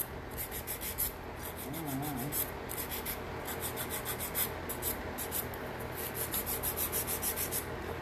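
An 80 grit file rasps across fingernails in quick, repeated strokes, an even scratchy rubbing that runs steadily throughout at close range.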